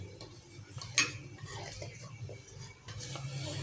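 A fish chapli kabab mixture being stirred in a bowl, with scraping and clinking of a utensil against the bowl, including one sharper clink, close and moderately quiet.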